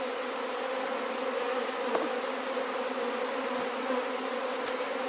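Honeybees buzzing around an open hive outdoors, a dense, steady hum holding throughout with a few louder passes close by, and no talking.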